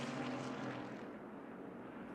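A helicopter climbing to higher altitude over a race track after refuelling, heard as a steady broadband engine and rotor roar with a low tonal hum, loud at first and then easing slightly, with no talk.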